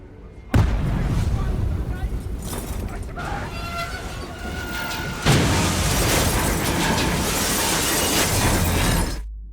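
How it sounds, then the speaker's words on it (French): Explosion aboard a train in Call of Duty Black Ops 3: a loud, sustained blast and rumble with crackling debris that swells again midway, with low game voices mixed under the roar. "À 7h31, un groupe terroriste provoque une explosion à bord de ce train."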